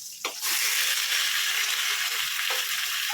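Chicken pieces hit a hot pan of ginger and burst into loud, steady sizzling frying that holds strong and close for the rest of the moment, with a brief stir near the end.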